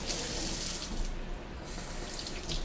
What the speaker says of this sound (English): All right, so Frank, why did you start with cold water with the fruit?